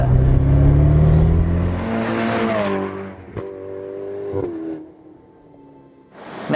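A 2018 Ferrari Portofino engine, roof down, revs loudly and rises in pitch, then eases off and settles into a lower rumble, with a brief burble near the end.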